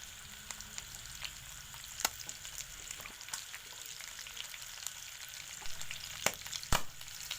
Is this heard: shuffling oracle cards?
no